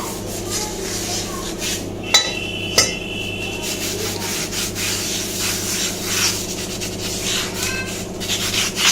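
Oil being rubbed into a seasoned cast iron pan on the stove, a steady close scrubbing texture with two sharp metallic knocks early on, continuing evenly throughout.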